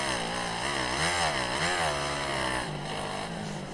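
Motocross bike engine in the MX Bikes video game, a loud continuous buzzing whine that rises and falls through gear shifts and throttle changes, steady and close throughout with no talk.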